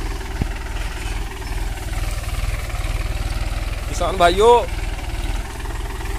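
A model 265 tractor engine runs steadily, its low diesel throb chugging close by and loud throughout, while someone speaks briefly over it in the middle.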